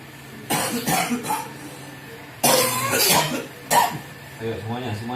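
Repeated coughing bursts, several harsh coughs in close clusters with pauses between, from a person during a chanted prayer healing session for a long-lasting cough, with voices around them.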